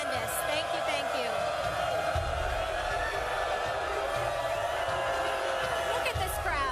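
Large outdoor crowd at a live ESPN First Take sports broadcast, a dense steady roar of cheering, whoops and chanting voices filling the whole stretch, with a host's voice talking over it.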